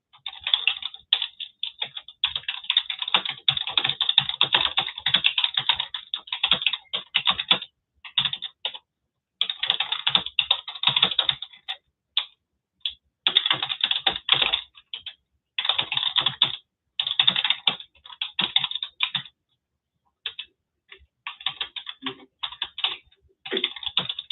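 Rapid keyboard typing on a computer, close and crisp, coming in bursts of clattering keystrokes separated by short pauses, with no voices.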